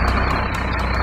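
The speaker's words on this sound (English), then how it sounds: "Dump truck." Loud, close truck engine rumble with a steady, repeating reversing beep pulsing over it.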